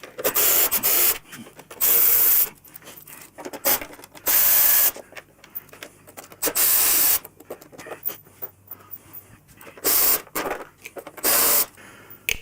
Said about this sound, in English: let's take these 6 bolts out and get this removed